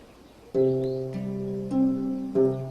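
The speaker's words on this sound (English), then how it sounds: "The great Tibetan baybacks is a splendid representative of the babbler laughing thrush family." Great Tibetan babax, a babbler laughing thrush found in Tibet, gives a loud, clear call of sustained harmonic notes in two or three close phrases, heard alone with no talk.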